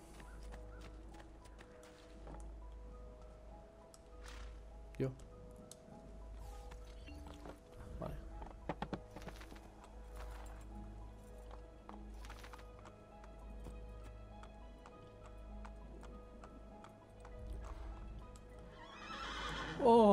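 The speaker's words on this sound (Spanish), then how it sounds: "Un caballo." A horse in the video game Assassin's Creed II neighs and its hooves clop over quiet game ambience, with the whinny rising loudly at the end and a brief voice heard once.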